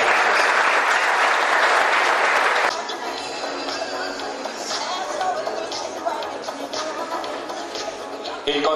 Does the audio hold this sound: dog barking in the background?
no